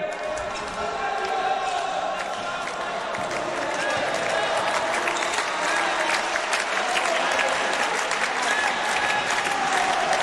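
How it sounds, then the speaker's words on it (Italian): A handball crowd at a Serie A match between Fasano and Bolzano stands and claps rhythmically in an indoor arena, loud and continuous, with cheering mixed in and a commentator talking over it. "il pubblico in piedi a battere le mani a questa squadra che resta capolista"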